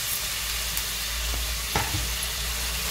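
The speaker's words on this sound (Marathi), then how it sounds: "आता आपण हे भाजून घेत आहोत।" Onion and tomato fry in a pan with a loud, constant close sizzle and a couple of faint stirring knocks, with no talking.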